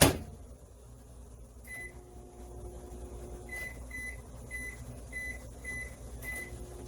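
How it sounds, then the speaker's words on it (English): A microwave oven hums steadily, interrupted by a series of short button beeps as its keypad is pressed. "I'm just going to stick this in the microwave."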